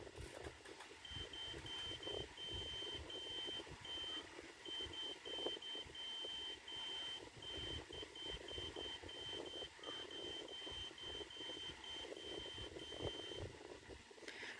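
An electronic buzzer beeps out "Never Gonna Give You Up" in short repeated tones at a steady pitch, running for several seconds over background clatter and hum.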